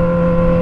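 Kawasaki Z1000 motorcycle fitted with a straight-pipe exhaust, idling or revving loudly and steadily up close with a strong, even drone over a short moment.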